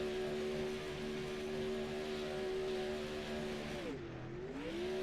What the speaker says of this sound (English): Looks like Ryan finally found a spot to do burnouts at